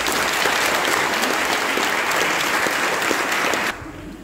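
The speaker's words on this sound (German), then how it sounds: "Einen riesen Applaus bitte." Dense, sustained clapping from a large crowd at a school admission ceremony after a school band performance, steady and loud, breaking off sharply near the end into quieter room noise.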